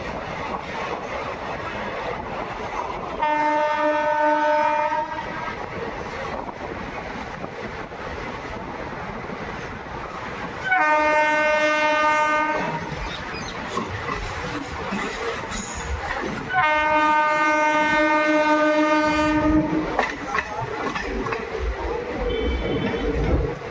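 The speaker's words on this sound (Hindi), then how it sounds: "जिस रेलवे स्टेशन पर हमारी मुलाकात होने वाली है आज के हमारे रूट की पहली ट्रेन से, और वो है रेवाड़ी बीकानेर पैसेंजर" Rewari Bikaner passenger train on an Indian railway line, three long loud horn blasts spaced several seconds apart over a constant rumble of the train and wind buffeting.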